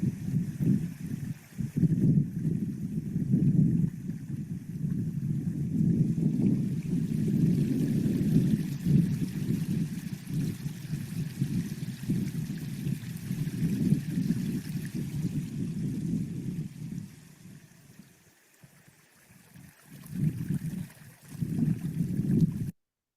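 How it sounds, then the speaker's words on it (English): Quiet water and wind outdoors make a steady rushing wash with a low rumble. It dips and softens briefly near the end. "you can see quiet noises of the sound of water and of the wind."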